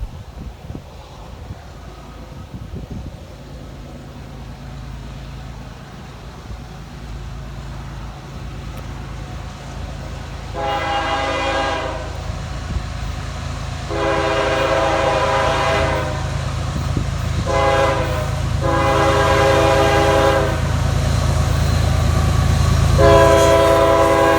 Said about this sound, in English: The engineer gave us a nice horn show.